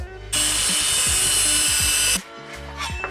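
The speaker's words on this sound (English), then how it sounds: "let's cut this end off" A power tool cuts through the end of an exhaust pipe on a widebody Honda Acty, a loud steady high-pitched grinding whine held for about two seconds and then stopping abruptly, with knocks and handling noise before and after.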